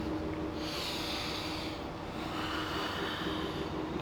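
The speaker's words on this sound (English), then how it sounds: "Take 3 slow deep breaths here." Slow, deep breathing held in locust yoga pose, soft, airy inhales and exhales that swell and fade over a steady hiss, quiet and close with no talking.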